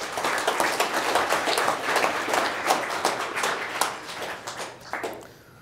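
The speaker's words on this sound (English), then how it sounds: "So round of applause for Ken." An audience gives a round of applause for several seconds, many hands clapping at a steady rate before thinning out and fading toward the end.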